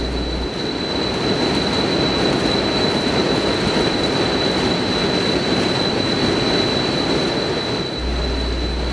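Strong wind at 40 miles per hour and up batters a RugRat tent in a wind test, a loud continuous roaring rush with steady buffeting and no talk.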